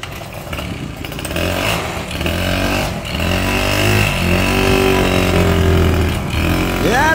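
A Honda Dio scooter engine running and revving with a weak, struggling pickup, a steady close buzz that rises in pitch through the rev with no talk over it.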